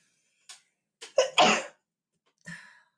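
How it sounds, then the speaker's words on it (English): Close up, a few sharp intakes of breath build into a loud, explosive sneeze, followed by a softer sniff. "Hold on, I'm about to sneeze."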